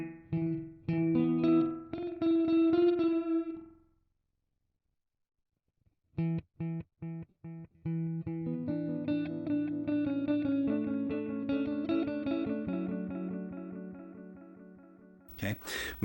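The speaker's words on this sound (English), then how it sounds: "So if you go super fast, it doesn't sound like echo anymore. It sounds like a weird room ambience" Guitar notes run through a Joyo R-07 Aquarius delay pedal set to very fast repeats, smearing into a dense plate-like room ambience; short strummed phrases separated by a silent gap, ending in a brief burst.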